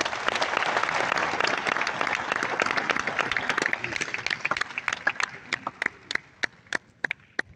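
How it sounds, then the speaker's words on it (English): Applause for graduates' families and staff at a college graduation ceremony, dense crowd clapping that thins out over several seconds into scattered individual claps near the end. "take just a minute to applaud them"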